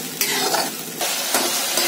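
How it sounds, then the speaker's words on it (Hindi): Steady sizzling of an onion, garlic and ginger paste frying in a hot pan, with a few stirring scrapes at regular intervals. "अब हम इस प्याज, लहसुन और अदरक के पेस्ट को थोड़ी देर भून लेंगे।"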